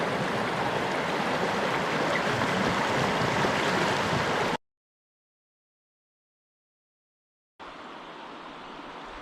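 Water flowing in the river Allondon, a loud steady rushing roar close by that cuts to silence midway, then returns quieter and thinner.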